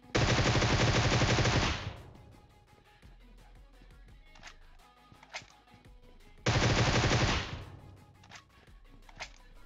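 Groza assault rifle fire in PUBG Mobile: two loud sustained full-auto bursts about two seconds each, separated by a quieter stretch with faint distant clicks and pops.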